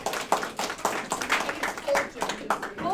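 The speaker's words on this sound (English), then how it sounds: "I think we can clap." Scattered clapping from a small group at a company update meeting, uneven and moderate, with voices talking over it.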